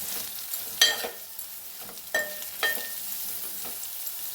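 Curry ingredients with meal maker frying in a pan, a soft steady sizzle broken by several sharp scraping stirs of a spoon, close up and quiet, with no talking.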